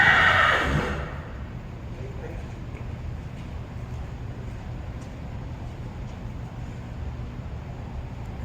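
A horse at a winter fair lets out a loud whinny that fades within the first second, followed by a low background rumble of the fair and quiet talk nearby.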